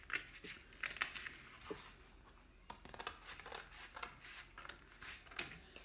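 Paper being cut out along a marked A6 template with scissors, giving quiet, close snips and crinkling rustles at an irregular pace.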